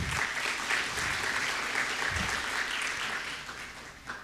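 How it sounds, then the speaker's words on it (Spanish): Audience applause at a panel event on water treatment challenges, steady broadband clapping from a sizable crowd lasting the full stretch and tapering slightly toward the end. "Un aplauso,"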